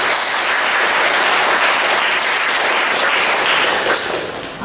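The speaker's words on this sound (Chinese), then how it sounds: "我们是用掌声来欢迎我们局长。" Loud, sustained audience applause welcomes the Kaohsiung cultural affairs bureau director at a city centennial celebration press event, a thick wash of clapping that holds steady before easing slightly at the end.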